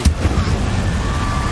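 The Incendio fire spell goes off in Hogwarts Legacy with a sharp loud burst at the start, followed by rumbling crackle and low thuds fading into a sustained roar.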